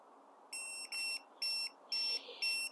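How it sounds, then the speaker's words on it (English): A VeSafe tire pressure monitoring system sounds its low-pressure warning for a sensor reading 0 PSI off the vehicle: five even, shrill electronic beeps in quick rhythm, loud over a faint background hiss. "It's beeping at me, saying, hey, you got no pressure in this thing."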